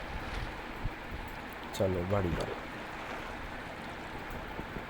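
Flowing water in the video game Minecraft, a steady broadband rush running through the whole stretch, with a brief spoken remark from a man partway through.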